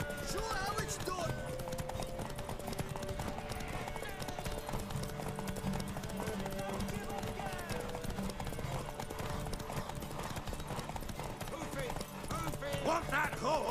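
Steady clip-clopping horse hooves from the video game The Witcher 3: Wild Hunt run throughout, mixed with game music and intermittent voices speaking over them.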